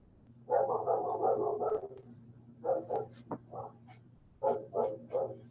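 A dog barks in three separate bursts of several quick, loud barks each, close by, with short quiet gaps between them and a steady low hum underneath.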